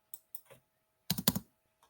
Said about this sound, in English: I'm not typing very well.